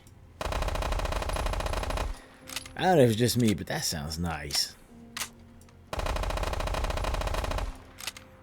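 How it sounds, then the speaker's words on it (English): An MP5 submachine gun in the video game Fallout 4 fires two long, rapid full-auto bursts, loud and close, with someone talking between them. "see the MP5"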